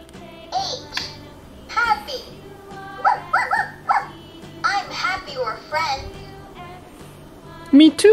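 A puppy in a children's toy video yaps and whimpers in short, bright bursts, mixed in with a voice speaking throughout.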